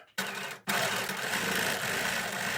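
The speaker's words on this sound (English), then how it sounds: "I've just sewn along the edge" A sewing machine stitches along the edge of a fabric piece, a steady close mechanical whir starting after a short silence, briefly stopping and then running continuously at even level.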